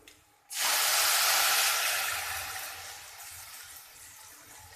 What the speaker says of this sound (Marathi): फोडणीचं जेव्हा असं चर आवाज येतो ना तेव्हा समजून जाईल की आपली फोडणी छान बसली